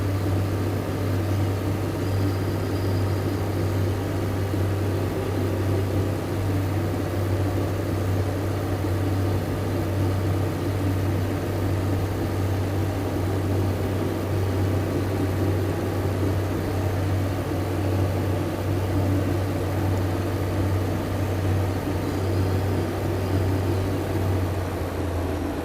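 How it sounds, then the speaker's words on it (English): Steady diesel engine drone of a Class 142 Pacer train in Train Simulator 2018, a continuous low throbbing hum with rumble that holds constant for the whole stretch, with no voices. "we've now got the lovely sound of the engine of this train"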